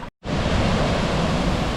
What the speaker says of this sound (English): you can see all the water running down